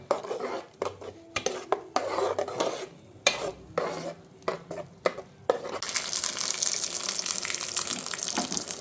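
A jackfruit curry with ground coconut and tomato paste is handled in a cooking pot: clattering spoon-against-pot stirring and clinks, then from about six seconds a steady, close bubbling and hissing rush as water goes in and it heats.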